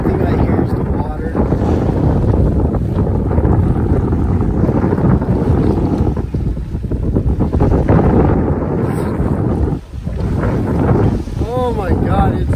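Loud, continuous rush of water streaming past a sailing boat at sea between Phuket and Ko Phi Phi, mixed with heavy wind buffeting the microphone; a brief voice sounds near the end.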